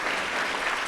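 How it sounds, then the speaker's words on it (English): Audience at a school board of education meeting clapping, a brief dense burst of many hands, steady and fairly close, lasting under a second. "You can clap for him."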